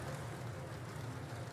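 Rain drums on a metal ceiling in the video game Cinderella Phenomenon. It makes a soft, steady wash that continues without pause and stays faint and even throughout.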